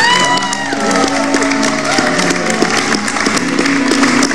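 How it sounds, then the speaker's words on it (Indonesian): A television studio audience applauding and cheering steadily throughout, with whoops and shouts mixed into the loud clapping. "Boleh minta tepuk tangannya buat Dena?"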